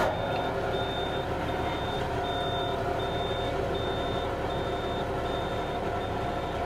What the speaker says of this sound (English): We've got our low air warning going on right now.